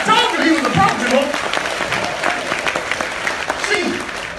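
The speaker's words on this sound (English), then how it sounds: "Keep that applause going for Jorge because he made it happen." Audience applause at a comedy show, loud and sustained clapping from the crowd, with a voice talking over it.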